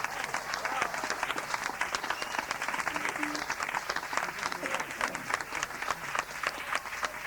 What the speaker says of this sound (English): And loud clapping, please,